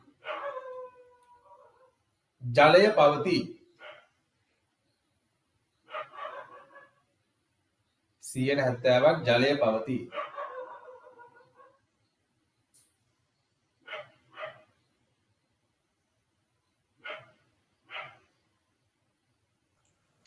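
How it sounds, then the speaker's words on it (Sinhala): A dog barks and howls in loud, separate bursts close by, alternating with quieter short yips, while someone talks in between. "බල්ලේ බුරන සද්දයක් ඇහෙන්නේ"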